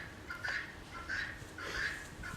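Farm turkeys and peacocks call in a series of three or four moderately loud, repeated squawking cries at a short distance.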